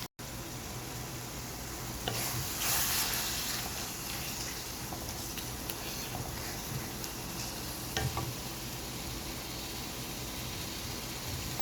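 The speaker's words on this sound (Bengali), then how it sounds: "এখন কিছুটা পানি দিয়ে দিলাম এখন ভালো করে কষিয়ে নেব" Loitta dried fish sizzles continuously in a hot pan with added water, a broad steady hiss with occasional louder scrapes of stirring.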